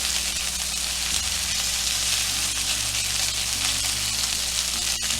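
Chicken tenders sizzling in a hot frying pan after being turned over, a loud, dense, continuous crackle heard up close with a brief sharp knock near the end.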